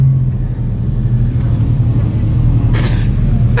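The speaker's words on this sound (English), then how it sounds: "seeing all these cars pull up" Loud, low engine rumble as several cars pull up close together, a steady idling drone with a brief hiss near the end, with no talk.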